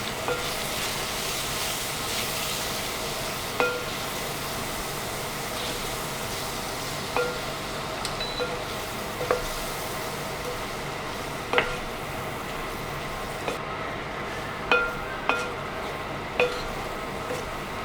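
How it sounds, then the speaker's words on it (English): Beef stew with stock is stirred in a tagine over a steady, close sizzle, with a utensil clinking against the pot every second or two. "Stir it all in."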